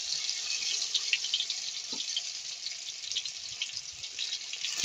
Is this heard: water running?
yes